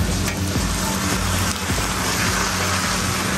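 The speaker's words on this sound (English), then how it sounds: "It's raining out here in Hua Hin" Steady rain falls outdoors in Hua Hin, making a broad continuous hiss at constant loudness, with faint traffic-like rumble underneath.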